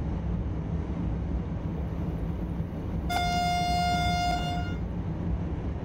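Simulated AVE high-speed train passing another train on the Madrid–Albacete line in Train Simulator 2019: a steady rumbling run with a bright tonal horn or bell sounding for about a second and a half midway.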